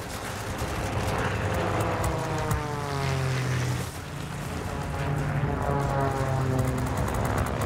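Steady, loud drone of a propeller aircraft engine in a flight combat video game, a continuous hum with shifting pitch throughout and no speech over it.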